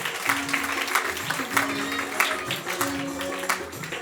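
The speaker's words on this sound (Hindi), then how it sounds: "जोरदार तालियों में बिशप साहब।" Steady applause from a crowd welcoming a bishop at a hymn release ceremony, continuous clapping filling the room for several seconds.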